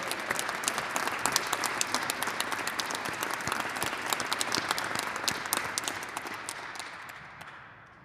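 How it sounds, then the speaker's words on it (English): A crowd applauds city leaders at a 2022 State of the City address, with sustained, full clapping that fades out toward the end. "Let's give these hard-working city leaders a round of applause."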